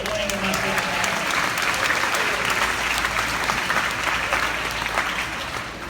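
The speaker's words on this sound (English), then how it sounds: "can we give a thunderous round of applause?" An audience at a university open house for prospective freshmen claps in sustained, dense applause, loud and steady throughout before tapering slightly at the end.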